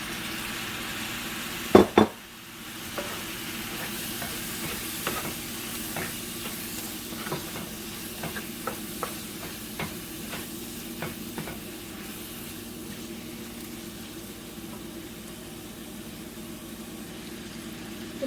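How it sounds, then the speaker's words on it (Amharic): Tomatoes dropped into a hot pan of frying berbere for Ethiopian chicken goulash give a sharp burst of sizzle, then steady crackling with repeated spoon scrapes and stirring clicks, close and unaccompanied by speech. "አሁን ቲማቲሙን እጨምረዋለሁ።"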